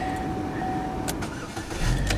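GMC truck with a check engine light and no PCM communication cranks and fires up, its engine catching into a close, loud idle.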